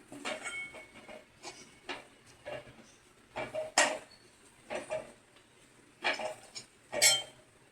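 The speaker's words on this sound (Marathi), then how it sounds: "मसाला टाकून चांगला हलवून घ्यायचं." A spoon stirs masala spices in a cooking pan for a spicy cowpea curry, giving a series of short scraping and clinking strokes in an uneven rhythm, close and fairly quiet, with no talking.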